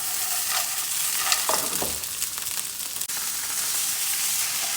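Frozen peas frying in a pan for egg fried rice give a steady, close sizzle with scraping stirs of a utensil against the pan partway through.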